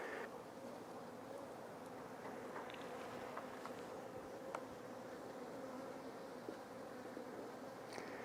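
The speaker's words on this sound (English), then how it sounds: "The bees have got a lot of work to do." Honey bees buzz steadily around an open beehive during swarm-control work with queen cells, a soft continuous drone with a few faint knocks, no talking.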